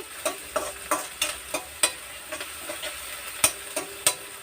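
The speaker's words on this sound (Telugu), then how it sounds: "బాగా వేగిన తర్వాత" Amaranth stems sizzle in a pan while being stirred, with a spatula scraping in quick, regular strokes over a steady crackling fry, close and fairly clear.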